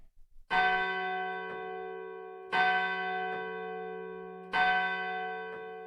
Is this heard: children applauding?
no